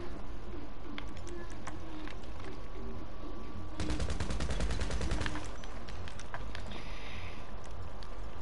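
Revolver gunshots in the GTA video game burst out as a quick cluster of sharp cracks in the middle, set against an ongoing background ambience.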